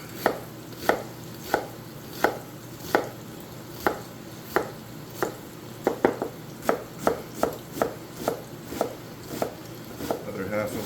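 A knife chopping an onion on a cutting board, about two dozen crisp close thuds, evenly spaced at first and then speeding into a faster run, with no talking.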